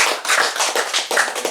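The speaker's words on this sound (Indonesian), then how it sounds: "Mari kita tepuk tangan juga untuk mereka." An audience at a church community gathering of Wilayah Rohani Santa Helena claps hands in a loud, dense burst of applause, close and continuous, with no talk over it.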